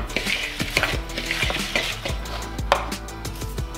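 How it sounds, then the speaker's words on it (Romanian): Cookie dough batter with oats is stirred in a bowl, with a string of rhythmic scraping and knocking strokes close by, and no talk. "Amestecăm."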